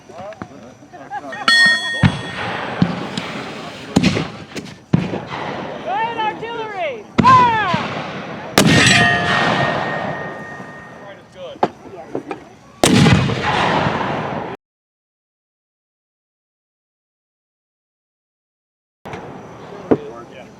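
Black-powder cannon and mortar firing at a fall shoot, several sharp loud blasts spaced seconds apart with ringing echo, mixed with voices talking between shots, then a long silence before a faint distant sound.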